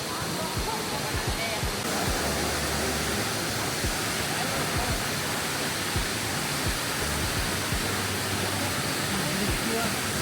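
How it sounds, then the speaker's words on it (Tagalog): A waterfall near Luang Prabang, Laos, rushes in a dense, constant roar that fills the whole stretch without a break. "Meron pa ditong waterfalls. Ayan siya."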